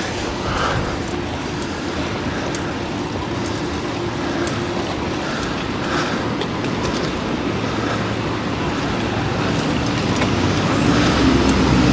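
Steady roar of cars driving onto a bridge in Sydney, a loud continuous wash of traffic and tyre noise with engines swelling nearer toward the end.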